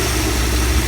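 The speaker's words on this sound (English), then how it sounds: "I'm happier with the way the engine is running since I changed that" Jeep WJ engine running smoothly after a MAP sensor replacement, a loud, steady low idle rumble heard up close for under a second, alone.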